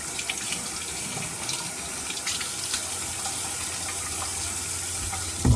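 Tap water runs steadily into a sink to wet a shaving brush, a continuous close splashing hiss with small bursts of spatter, then a brief louder knock at the very end.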